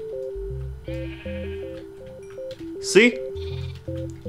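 A sheep in Minecraft gives one short wavering bleat midway, over a steady looping game melody, with someone speaking briefly.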